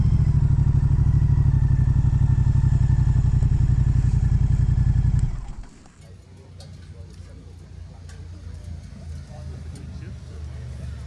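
A motorcycle at Deal's Gap on the Tail of the Dragon runs with a loud, close engine rumble for about five seconds, then cuts off abruptly, leaving quieter ambient clatter and faint background sounds.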